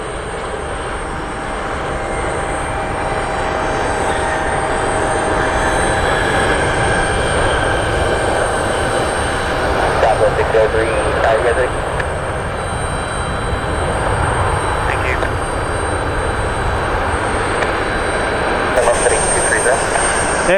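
An Alaska Airlines Boeing 737-800 in Pixar special livery arrives with a steady, broad jet roar at moderate distance, continuous throughout, while a voice talks over it.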